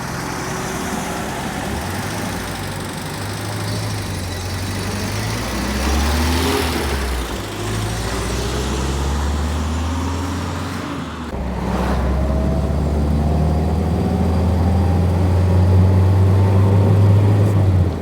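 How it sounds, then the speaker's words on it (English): An early Peugeot 504 petrol pickup's engine drones at low revs, steady and close, with the pitch rising slowly as it pulls, over constant road noise. "This petrol engine is very much designed with torque in mind, so it pulls very well at low revs."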